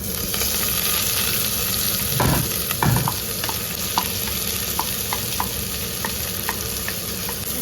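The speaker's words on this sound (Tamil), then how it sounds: "இந்த கருவேப்பிலை, வெங்காயம், பச்சை மிளகாய் எல்லாத்தையும் போட்டுடலாம்." Curry leaves, onion and green chili hit hot oil with urad dal in a pan, giving a steady, even sizzle. A few scraping stirs and soft clicks of a spoon sound throughout, with no talking.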